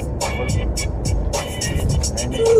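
A car drives along the road between Shirdi and Hyderabad, a steady low engine and road rumble filling the cabin as people talk over it throughout.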